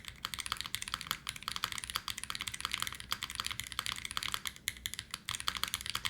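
Fast, even typing on a Dymium65 custom mechanical keyboard, close-miked keystrokes forming a quick clacky rhythm with no voices.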